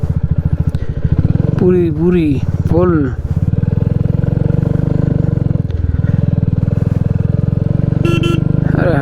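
A motorcycle rides over a loose dirt road with soft soil patches and scattered stones between Hunder and Turtuk in Ladakh. Its engine drones steadily and loudly throughout while someone talks over it, and a brief horn-like burst comes near the end.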